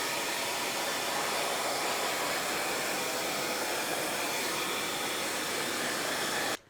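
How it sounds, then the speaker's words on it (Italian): A hair dryer blows steadily at close range over freshly applied decorative paint, a loud continuous whooshing hum that cuts off abruptly at the end. "Quando poi credi di averne messo abbastanza, prendi il phon."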